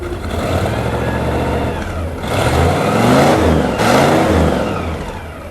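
A 1957 Pontiac Bonneville convertible's fuel-injected engine runs close by, a steady mid-pitched rumble that swells twice as the revs rise, with faint injector ticking beneath.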